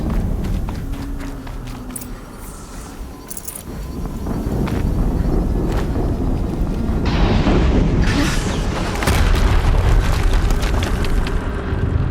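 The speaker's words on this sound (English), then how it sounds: "Another explosion." Explosions in Horizon Zero Dawn: loud, rumbling booms that swell and roll on for several seconds, with crackling debris and shifting bursts layered over a heavy low roar, no voices.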